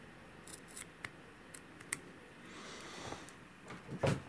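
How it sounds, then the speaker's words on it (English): Scissors trim the excess string on a 2018 Hoyt Proforce compound bow, giving a quiet series of sharp snips and clicks spaced through a hushed indoor space. "Grab the scissors, cut off the excess."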